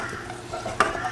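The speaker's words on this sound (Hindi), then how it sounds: "ये लगाया इसको सफ़ेद ज़ीरे का तड़का" Cumin seed tadka sizzling in hot oil, a steady close crackling hiss with a brief louder burst near the end, no voices.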